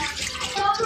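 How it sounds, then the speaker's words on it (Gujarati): Water pours into a cooking pot set to heat for khichu, a brief splashing, gurgling pour lasting under a second. "તો આ વાટકી આપણે 3 ભરીને પાણી ગરમ થવા મૂકીશું."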